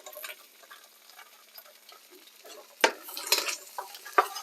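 Vegetables and onions hit hot oil in a pan, giving a faint sizzle with soft stirring and scraping, then a couple of sharper utensil clatters near the end.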